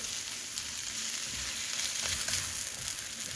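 Onions sizzle and fry steadily in a hot pan, a dense close crackle with occasional louder pops and no talking over it.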